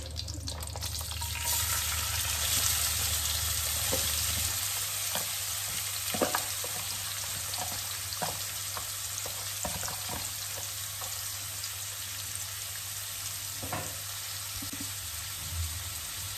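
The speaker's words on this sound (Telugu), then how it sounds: "ఇప్పుడు జీలకర్ర, ఆనియన్స్ వేసుకుందామండి." Cumin seeds and onions sizzle steadily in hot oil in a pan while cooking a bitter gourd masala curry, a continuous frying hiss with occasional stirring clicks, close and alone.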